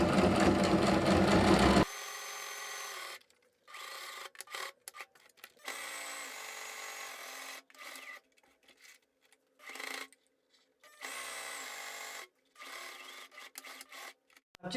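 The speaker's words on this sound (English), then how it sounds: "So we're gonna go back to the sewing machine, and we're gonna just sew" Sewing machine stitching fabric for a drawstring bag, with a louder burst at the start and then repeated short runs of rapid mechanical clatter separated by brief pauses, close and without talk.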